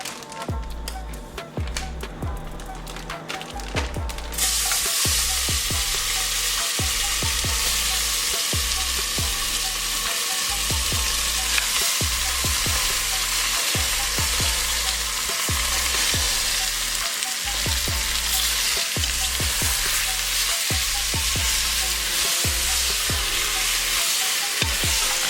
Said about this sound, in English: Now that the oil is hot, I'm going to add the meat.